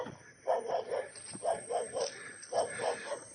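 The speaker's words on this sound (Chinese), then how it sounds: "听到一个狗叫，不会有很多吧？" A dog barks near an isolated farmhouse in remote mountains, giving about three bursts of rapid barks, fairly distant and moderate in level, with outdoor background.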